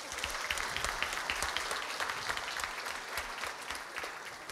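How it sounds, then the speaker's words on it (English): A theatre audience gives a live cast another round of applause, sustained, evenly textured clapping from many people in the hall, heard fairly quietly throughout. "Please give them another round of applause."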